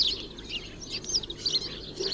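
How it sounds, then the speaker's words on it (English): Small garden bird chirping in short bursts near a feeder where a thrush visits, several high tweets scattered across the moment against quiet outdoor background. "there's the thrush"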